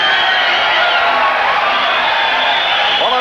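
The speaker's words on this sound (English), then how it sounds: "I say the crowd was enjoying the ladies fighting" A dense, steady roar of crowd cheering and whooping at a women's professional fight, loud and continuous throughout with no clear gaps.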